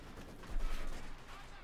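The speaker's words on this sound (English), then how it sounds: "Machine gun almost being taken up by artillery fire. Double field guns bombarding. And the mortars joining in the fun as well." Battle in Company of Heroes 2: field guns, mortars and machine gun fire blend into a dense, rumbling barrage of overlapping booms and rattling bursts, loud and continuous.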